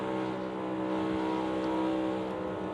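Loud, sustained engine note of a NASCAR Cup Series race car circling Kansas Speedway, a steady droning roar with slight rises as the driver modulates the throttle, close and continuous with no talk.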